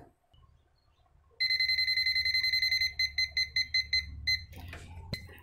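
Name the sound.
multimeter non-contact voltage tester beeping near AC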